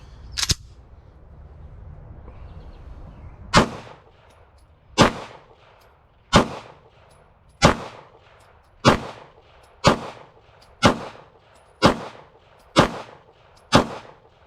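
Ten sharp shots from a Walther pistol fired on a test range, a lone early report followed by nine evenly spaced rounds at roughly one-second intervals, loud and close with no talking.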